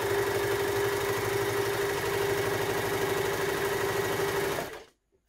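A baby lock Victory overlock machine sews at speed, a loud, rapid mechanical whir with a steady buzzing hum that runs evenly and then stops abruptly near the end.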